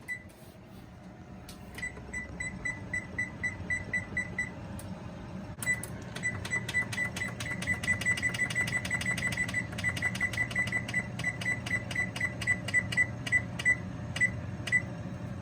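A kitchen oven timer goes off as a cake finishes baking, sounding a long run of rapid, evenly spaced electronic beeps in repeated bursts, close and clear, with a brief pause partway through.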